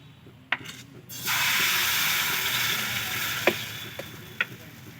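A Mughlai paratha, made from an egg and flour batter, fries in white oil in a pan. A loud, steady sizzling hiss starts suddenly and carries on, with a few sharp ticks and pops over it.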